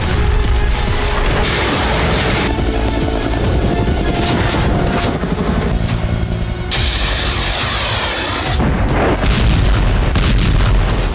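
Hezbollah rocket fire and explosions striking Israeli military posts at Jatoun: a loud, dense, continuous roar of booms and rumbling blasts, sustained and unbroken with no voices.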